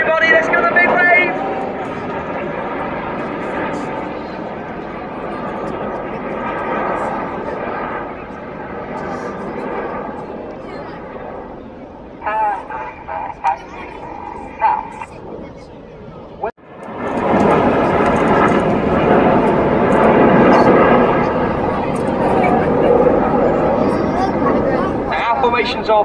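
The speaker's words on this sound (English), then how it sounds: "The jets are about to go upside down." Red Arrows jets fly an aerobatic display, giving a continuous loud roar that drops briefly and then surges back. Crowd noise and talk are heard throughout.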